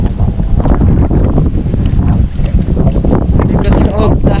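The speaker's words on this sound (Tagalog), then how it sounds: "Malakas talagang hangin, no?" Strong wind buffets the microphone outdoors, a loud continuous low rumble with gusting surges throughout, while a person speaks intermittently over it.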